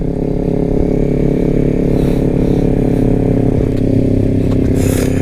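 A Kawasaki Ninja 400 motorcycle engine idling, a loud, close, steady running hum with a faint bit of clatter and no change in pace.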